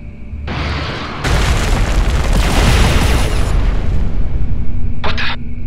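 Missiles strike a blown core entrance in the space combat game Everspace 2, and a loud, sustained roar of explosions rumbles close and heavy for several seconds.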